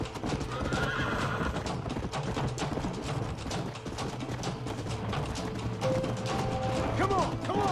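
Horse galloping with steady drumming hoofbeats and a loud neigh in the Red Dead Redemption video game, set against a dense, continuous mix of game noise.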